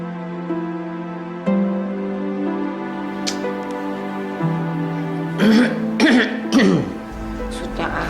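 Several short coughs and throat clearings come close together in a quiet room over soft background music in a TV drama scene.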